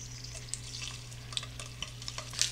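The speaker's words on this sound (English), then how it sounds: "Now you want to add the sausages to a hot skillet, that way they sear" Sausages sear in a hot skillet, giving a steady soft sizzle with small crackles and pops scattered throughout, close and moderately quiet.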